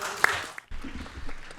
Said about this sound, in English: Let's give another big round of applause to our honoree, Dr. Shirley Weber.